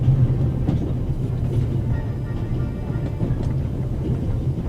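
A train in the video game The Raven Remastered rumbles steadily with a low continuous roar and faint rhythmic clicking of wheels on rails, close and moderately loud, without talk.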